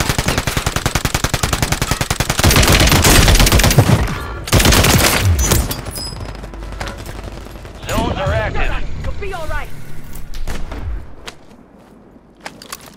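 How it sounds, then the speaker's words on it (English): Call of Duty multiplayer gunfire: loud, rapid automatic bursts and scattered single shots at close range, easing off toward the end, with players talking and laughing over it. "Taking fire over here."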